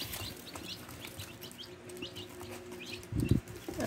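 Two-day-old chicks chirping in a group, a steady scatter of small high peeps throughout with some low rustling and a louder shuffling burst near the end.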